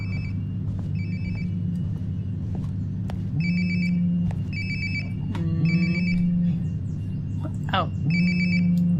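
A phone rings repeatedly in Life is Strange: Before the Storm, its electronic ringtone pulsing in short regular bursts over a low steady hum, while a voice talks over it.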